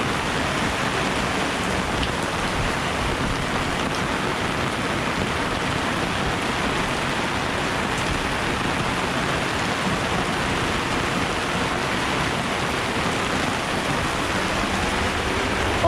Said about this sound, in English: there's rain and wind chasing us here from way out on the Atlantic